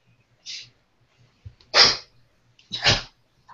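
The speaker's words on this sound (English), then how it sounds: "It's a dog." A pet dog indoors at night lets out three short, sharp huffing snorts or sneeze-like bursts, spaced about a second apart and fairly close and loud against a quiet room.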